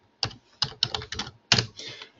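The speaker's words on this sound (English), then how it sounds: "I can't type today." Fast typing on a computer keyboard in short bursts of clustered keystrokes separated by brief pauses, close and fairly quiet with no talking.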